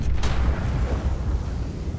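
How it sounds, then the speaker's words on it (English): A bomb goes off in The Walking Dead video game, one sharp burst at the start followed by a long, heavy low rumble that stays loud throughout. "And there's the explosion. Shit, the bomb!"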